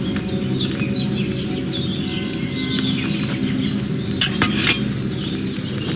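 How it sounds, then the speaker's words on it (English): A potion cauldron hangs over an open fire in the game Kingdom Come: Deliverance II, bubbling and simmering steadily for several seconds while faint bird calls drift in the background. "Hear that bubbling? It's boiling."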